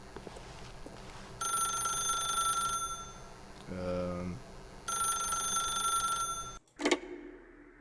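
In the video game The Stanley Parable, a telephone rings in two long electronic bursts separated by a low tonal pause. The ringing is cut off by a sharp click as the receiver lifts.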